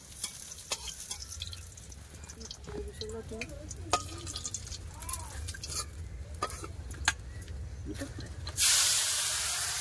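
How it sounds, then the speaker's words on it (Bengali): Steady sizzling of murla fish frying in hot oil with occasional pops and clinks, ending in a louder burst of hissing. "এবার মেয়েতে গরম মুরলা মাছগুলো এবার ভেজে নেবো।"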